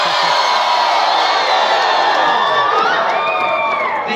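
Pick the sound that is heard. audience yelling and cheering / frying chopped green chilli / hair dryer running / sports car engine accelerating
audience yelling and cheering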